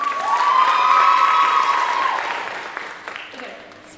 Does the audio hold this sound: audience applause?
yes